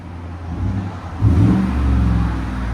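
Exhaust note from a 2018 Chevy Tahoe 6.2L V8 fitted with an 18-inch Magnaflow muffler, a low idle that jumps into a brief loud rev and then holds a raised, steady drone close by.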